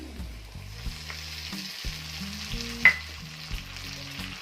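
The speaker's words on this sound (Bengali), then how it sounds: "এবার দিয়ে দিচ্ছি টমেটো বাটাটা।" Tomato paste fries with reddened onion paste in a pan for a fish head curry, a low sizzle under repeated scraping and knocking of a stirring spoon, with one sharp clink.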